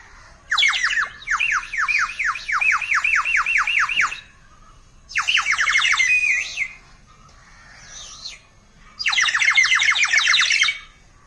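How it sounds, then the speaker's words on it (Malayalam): A water-filled bird whistle toy gives out three loud bursts of rapid, bubbling warbled chirps with short silent gaps between them. A faint fourth flutter sits in the middle gap. "ഉള്ളിൽ വെള്ളം നിറച്ച കിളിയുടെ സൗണ്ട്"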